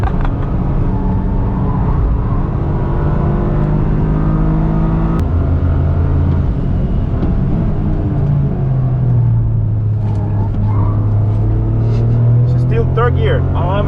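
Engine of a 2023 Toyota GR Corolla Morizo Edition revving hard on a track hot lap, held loud and close from inside the cabin, with pitch rising and falling across gear changes and people talking over it.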